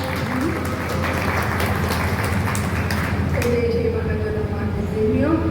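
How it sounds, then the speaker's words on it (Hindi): A satsang audience claps loudly together in a dense, steady wash of applause that runs the whole time, with faint ringing tones and some voice mixed in beneath it. "सभी ताली बजाएं जोरदार"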